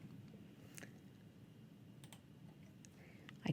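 Keystrokes on a computer keyboard while entering measurements in drafting software, a few sparse clicks over a steady low room hum, fairly quiet and close, with a slightly louder tap cluster at the end.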